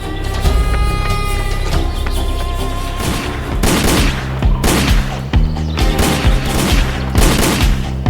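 Gunfire sound effect in an audio drama: heavy volleys of shots crack out repeatedly in loud, dense bursts, with several sharp blasts standing out near the end, and no talking.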